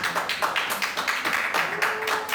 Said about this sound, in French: Mabio, s'il vous plaît, on applaudit.